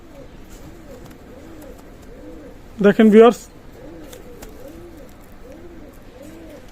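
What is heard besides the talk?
Saharanpuri pigeons cooing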